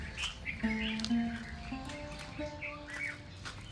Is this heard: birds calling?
yes